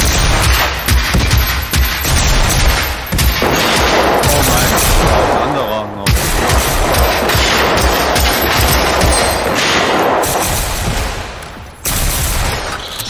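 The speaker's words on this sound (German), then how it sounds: "Pumpgun." Pump shotgun firing in Generation Zero, repeated loud blasts mixed with rapid gunfire throughout a chaotic, sustained firefight, with voices talking intermittently.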